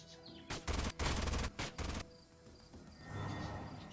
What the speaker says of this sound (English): And then this guy can just shoot his big gun.